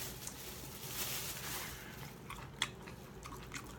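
Crunchy chewing of crispy seasoned Korean fried chicken, close and soft, with a few sharper bites standing out against steady room noise.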